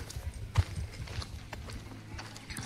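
A pair of bullocks' hooves clop on hard ground at an unhurried walking pace, fairly close, over a low background hum.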